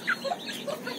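Chicks of a Talisayin native chicken peep in a few brief, high chirps, faint and close, with no voices.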